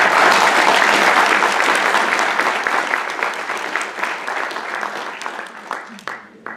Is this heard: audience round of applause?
yes